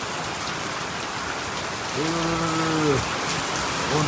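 Heavy rain pours steadily onto surfaces with water running below, a loud continuous hiss, joined midway by a brief tonal drone like a distant horn or engine, and no voices.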